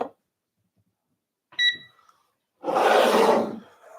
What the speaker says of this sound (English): So let's get our grinder out here, get our scale going.